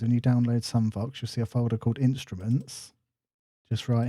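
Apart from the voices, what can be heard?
None of the usual background noises is heard.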